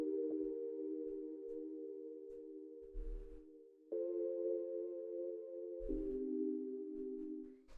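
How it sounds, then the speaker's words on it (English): Sustained synth chords for minimal house hold steady tones that shift in pitch every couple of seconds, with brief noisy bursts at the changes, clean and alone. "The next thing that we have here is this chord"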